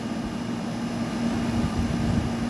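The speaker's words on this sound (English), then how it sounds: "The fan on this thing is really powerful." A powerful fan on a piece of refrigeration equipment runs as a loud, steady whoosh with a constant hum, unchanging throughout and with no voices.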